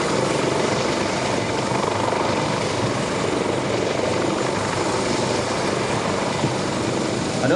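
A Coast Guard search and rescue helicopter hovers during an air show demonstration, its rotor and engine roar steady, loud and close throughout with no break.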